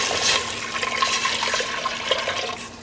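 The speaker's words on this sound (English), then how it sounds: "So we're going to add our water in." Water pours steadily into a soup pot for roasted tomato and red pepper soup, a continuous rushing, splashing stream that stays close and fairly loud throughout with no talking.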